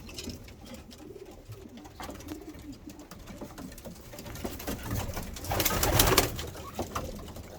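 Çayka Long Face pigeons and their chicks coo softly in a breeding loft, a continuous murmur of close cooing with a louder rustling swell near the end.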